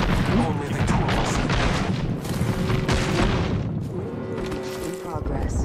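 Airstrike explosions in a battle royale shooter game, heavy booming blasts and rumbling gunfire continuing throughout at steady loudness, with a voice talking over the barrage.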